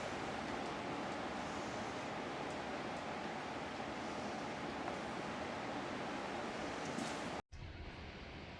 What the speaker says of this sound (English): Sorry for the wind, if you can hear the wind, it's a bit windy here at the moment.